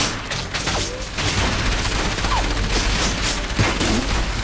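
Sustained gunfire in the video game Enslaved: Odyssey to the West, a dense, loud fusillade of rapid shots and booms running continuously through a noisy battle soundscape.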